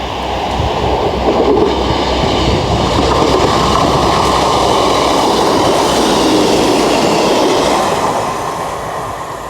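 A two-car train passes through a small rural Lincolnshire station, a loud, steady roar of wheels on rails holding close for several seconds before easing slightly as it moves off, with no talking.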